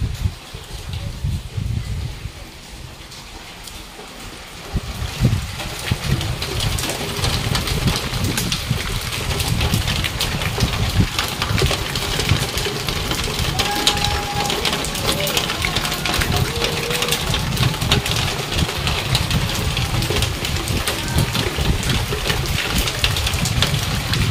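Heavy rain pours outside a home during a wet spell, a dense, steady hiss that swells in after a quieter opening few seconds and then holds loud and even throughout.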